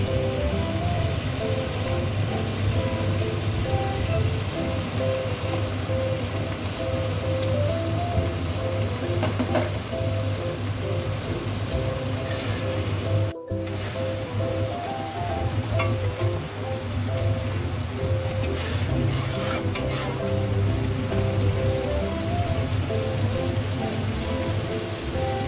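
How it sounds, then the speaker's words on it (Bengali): Fish going into a hot pan for a homemade Bengali fish curry gives a steady, dense sizzle and crackle that carries on for the whole stretch. The frying noise holds loud and even throughout, with no voices over it. "আমি দিচ্ছি মাছ।"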